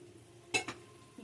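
A spoon stirs kesaribath, a semolina sweet with roasted cashews, raisins and cardamom, in a pan on the stove, giving two brief, soft scraping strokes close by against a quiet background.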